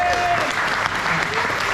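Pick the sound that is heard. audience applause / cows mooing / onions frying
audience applause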